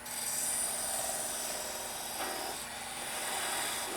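Half-inch spindle gouge cutting a wooden Christmas ornament spinning on a lathe, giving a steady continuous rasping, scraping hiss close up with a brief sharper scrape midway.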